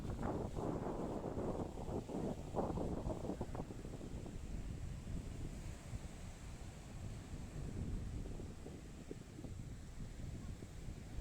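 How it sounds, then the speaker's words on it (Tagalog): Strong wind buffets the microphone in a continuous rough roar on a Boracay land tour, with gusts surging louder at the start and rumbling on throughout. "Medyo malakas ang hangin guys."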